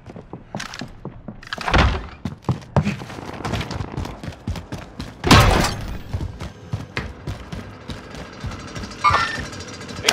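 A Molotov cocktail is thrown and shatters in Call of Duty: Modern Warfare, with two sharp glassy crashes standing out among close thuds, footsteps and other gameplay noise.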